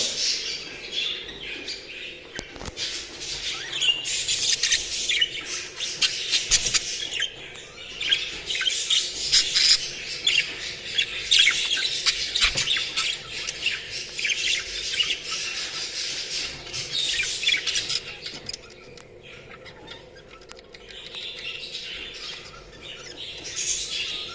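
A male show jumbo budgerigar courting a female chatters and squawks in long, busy runs of chirps and warbles, close and fairly loud, with brief pauses and no voices.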